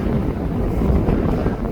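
Steady, loud wind buffets a camera outdoors at an airport, a continuous low rumble of gusting that fills the whole moment.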